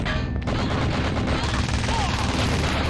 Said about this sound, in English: I hear they're shooting at her.